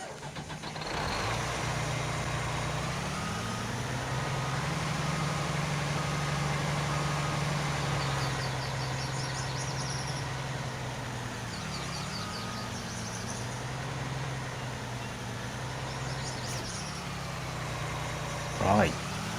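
A tractor engine idles steadily in Farming Simulator 19, a continuous low hum with slight pitch shifts while someone talks over it.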